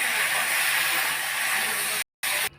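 Spices and masala sizzling in a hot pan, a dense close hiss that runs steadily, then cuts out briefly before resuming and fading near the end.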